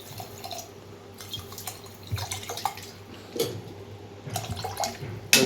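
Chilled water poured into a homemade grape juice drink, a low irregular splashing and dripping pour heard close up, running steadily with a brief louder splash at the end.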